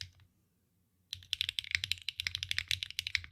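Rapid typing on a mechanical keyboard fitted with HMX switches, crisp close clicks and clacks in a fast irregular stream that starts after a second of near silence, with a slightly scratchy character.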